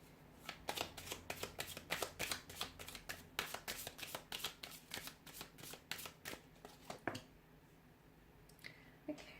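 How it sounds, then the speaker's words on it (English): A deck of oracle cards is shuffled up close, producing a rapid run of crisp, rhythmic riffling slaps for about seven seconds before tapering to a few faint rustles. "let's shuffle the cards and see"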